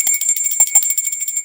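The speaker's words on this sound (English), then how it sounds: "There's my little bell." Little bell ringing with a bright, high-pitched tone, struck in quick irregular jingles that sound close and fairly loud, with no voices.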